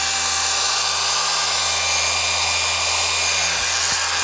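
A 3-inch pad polisher spins steadily on speed 3 while correcting paint on a 2018 Ford Raptor, giving a continuous, even high-pitched whir with a brief dip near the end.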